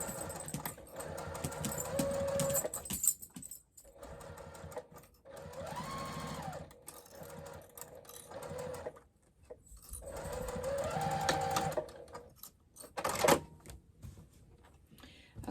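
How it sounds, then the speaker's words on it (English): A sewing machine stitching a quarter-inch seam on a crossbody bag, a steady rapid mechanical whir in several runs separated by short pauses and clicks, close and clear with no talk. "we'll just go ahead and stitch that down using a 1/4 inch seam allowance"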